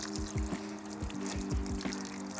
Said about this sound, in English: it's handy to take the nozzle at the end of your pressure washer hose